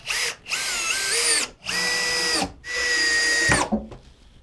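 A power drill drives screws to fix a router carrier and base to a workbench, three loud whining bursts of rising and falling motor pitch separated by short pauses, close and with no talk.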